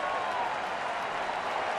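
Baseball crowd at a Braves–Cubs game cheering for a strikeout, a sustained, dense wash of applause and crowd noise at steady loudness throughout.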